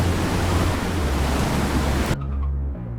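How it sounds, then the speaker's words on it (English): Tornado wind gusts in the Roblox game Twisted roar as a loud, dense, steady rush of noise that cuts off abruptly near the end, leaving a quieter low hum. "This thing's wind gusts are insane."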